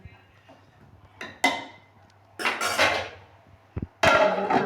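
A lid set onto a pot of potato, carrot and pea curry, with a couple of sharp metallic clanks and rattles close by, separated by short quiet gaps.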